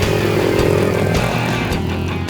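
A mud racing vehicle's engine revs hard as it accelerates, a loud raw roar close by with several rising surges and a steady rasping drone, no voices.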